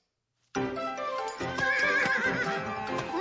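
A horse whinnies loudly and close in an animated Miss Mallard mystery set on a Texas trail, with a long harmonic neigh starting after a brief silence, a rising squeal in the middle and a fading snort at the end.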